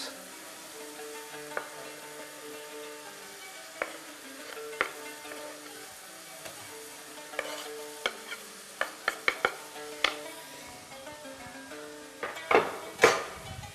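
Tomato frying in a pan, a soft sizzle beneath repeated scraping and clinking as a utensil stirs it, with sharper clatters gathering toward the end, close and moderately quiet.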